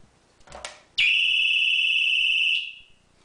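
A Pistol Pad security alarm triggers, a loud, steady piercing electronic tone that sounds alone for about a second and a half before cutting off, preceded by faint handling noise.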